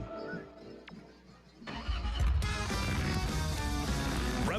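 A Harley-Davidson motorcycle engine cranks and catches, then settles into a loud, deep, rumbling rev that fills the rest of the moment, heard close and up front.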